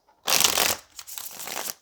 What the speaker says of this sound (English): So this deck needs a few shuffles.